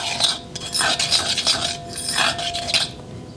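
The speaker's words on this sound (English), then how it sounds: "Give it a stir." A spoon scrapes and clinks around a pot while food is stirred, several rhythmic bursts of metallic rubbing close up with short pauses between, no talking.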